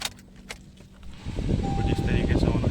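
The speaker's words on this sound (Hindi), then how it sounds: "तो ये है चाबी लगाता हूँ गाड़ी में।" A key jingles into the ignition of a Maruti Brezza VXi, then the car switches on, bringing a rising hum and a thin electronic tone, with someone talking throughout.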